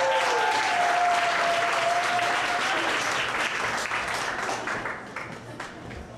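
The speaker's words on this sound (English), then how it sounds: "Let's have a nice round of applause for contestant number 12," Audience applause greeting contestant number 12 at a singing contest, a dense, steady wash of clapping that slowly thins and fades toward the end, with a faint tone gliding through early on.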